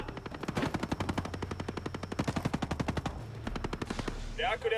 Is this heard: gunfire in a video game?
yes